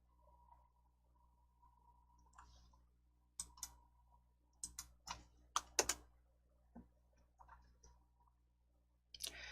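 Sharp computer mouse clicks while formatting a document, coming in quick irregular bursts, some paired, against a quiet room hum.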